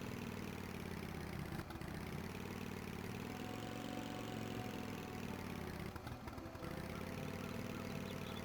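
Quad bike engine in the video game Tomb Raider III, a steady, droning mid-pitched motor hum that holds constant throughout, with faint brief clicks from the game.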